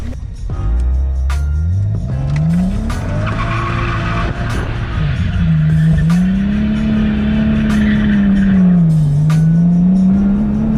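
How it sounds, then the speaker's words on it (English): A BMW 435i doing a burnout, its tires squealing loudly and continuously as the engine revs and roars underneath, close and sustained for the whole stretch. "Burnout fail. Nah, burnout win."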